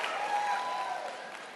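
Audience applause and clapping from a comedy show crowd, a dense steady patter of many hands that holds briefly and then begins to thin out toward the end.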